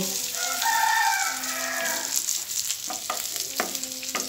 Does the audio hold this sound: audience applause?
no